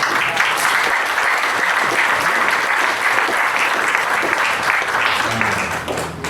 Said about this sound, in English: I want to applaud y'all